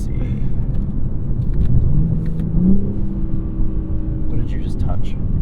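A 2023 BMW M3 Competition xDrive inline-six idles with a steady low rumble through its exhaust, then revs briefly and settles back, close by and continuous throughout.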